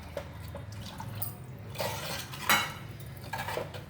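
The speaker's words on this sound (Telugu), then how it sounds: "ఇప్పుడు ఇందులో సరిపడగా నీళ్ళు వేస్తాను" Water poured into a metal pot of chicken kurma while cooking at home, faint splashing and trickling with light clinks of utensils against the pot, close by and without talk.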